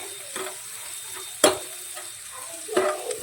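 Salt stirred into spices in a cooking pan gives a few soft scrapes and clinks, with two sharper spoon knocks against the metal over a low background sizzle.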